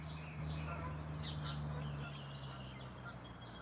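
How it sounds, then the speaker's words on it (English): Canada geese honk repeatedly at a moderate distance over a low steady hum, calls overlapping in an irregular outdoor chorus. "Geese, I should say. Canadian geese."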